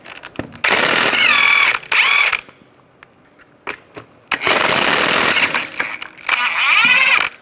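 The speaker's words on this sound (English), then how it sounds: "use a 19 millimeter socket, take the lug nuts off" A ratchet with a 19 mm socket loosens lug nuts on a Ford Explorer wheel in bursts of rapid, close clicking, separated by short pauses.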